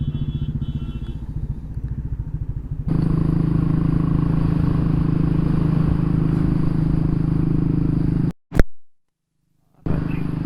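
A motorcycle rides along the side of a traffic jam near roadworks on the way to the Nadabet border area, its engine a close, continuous drone that grows louder partway through, then cuts out briefly before returning.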